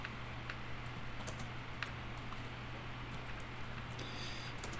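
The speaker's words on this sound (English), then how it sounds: "Let me try to type something like" Someone types a short phrase on a computer keyboard in quick, light clicks, close and alone over a steady low hum.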